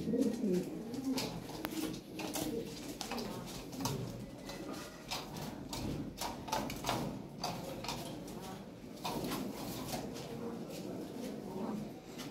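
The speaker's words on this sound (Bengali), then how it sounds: "কবুতর সুন্দর, ভালো কবুতর।" Farm-bred Lahore Siraji fancy pigeons coo softly and repeatedly in a pen, their low murmuring calls continuing throughout amid light rustling and occasional ticks.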